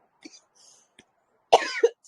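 A single hard cough bursts out near the mic, preceded by a few soft breathy sounds and faint clicks, then quiet.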